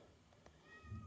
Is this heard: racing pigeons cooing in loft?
no